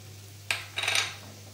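A spoon scraping and clinking against a pan while amla pickle is stirred, one sharp knock followed by a quick cluster of metallic scrapes, close and fairly quiet over a low steady hum.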